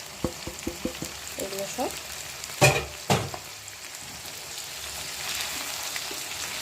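Ground black pepper, cumin, coriander and a little turmeric sizzle in a pan while being sautéed for Palang chicken, with a few sharp stirring clicks early on and a brief spoken remark over the steady frying hiss.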